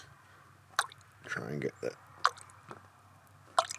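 Squeezing a radiator hose on a 2007 Kia Rio during a coolant change makes soft, wet squishes and gurgling drips that push air bubbles out. The short, close liquid sounds come in bursts under a man's speech.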